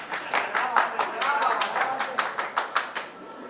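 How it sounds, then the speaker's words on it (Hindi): Small audience at a fashion awards red carpet claps in a loose, sparse rhythm, individual hand claps clearly separated and growing sharper near the end, close and moderately loud. "ताली बजाओ"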